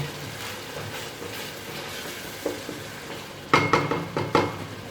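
A masala gravy fried in ghee until it separates is stirred in a pan for a baingan masala dish, with a low sizzle throughout and a few clinking scrapes of the spoon against the pan near the end.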